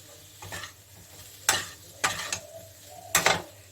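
Tomatoes and salt sizzle quietly in a pan for paneer broccoli while a spoon stirs them in a few sharp scraping bursts, with soft frying hiss between the strokes.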